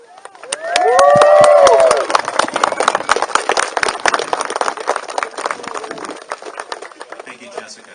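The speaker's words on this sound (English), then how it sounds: "I want you guys to give her an extra round of applause." A crowd at an outdoor gun-rights rally in Olympia, Washington cheers after the national anthem: a loud whoop or whistle at first, then scattered clapping that thins and fades over several seconds.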